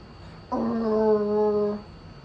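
A single voice imitates a growl with one sustained, steady, drawn-out tone lasting just over a second, close and clear against a quiet background.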